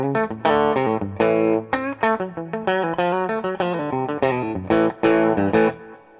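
Electric guitar in coil-tap mode on a humbucker, with a thinner single-coil tone, plays a quick, rhythmic run of picked chords and notes, steady and fairly loud, with light distortion.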